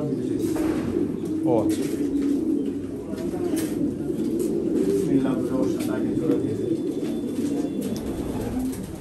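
Racing pigeons being paired coo repeatedly nearby, a low rolling murmur under people talking close to the birds.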